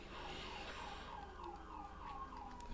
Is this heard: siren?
yes